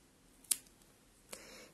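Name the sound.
scissors cutting beige yarn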